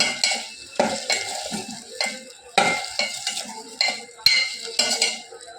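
A spoon stirs food in a pot after the lid is lifted in a home kitchen, making repeated scraping, clattering strokes in an irregular rhythm, close and fairly loud, with no talking.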